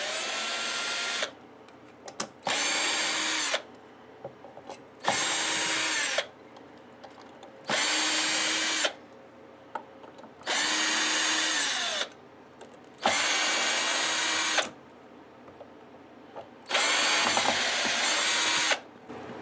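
Power drill backing long gold screws out of an Explorer-style electric guitar body, running in seven or eight loud, steady bursts of a few seconds each with brief pauses between.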